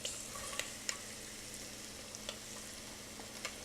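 Shrimp with minced garlic and onions frying in a pan: a soft, steady sizzle with faint crackles and a few light utensil taps or stirring clicks, no talking.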